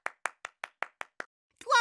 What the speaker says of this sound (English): Clap your hands real fast.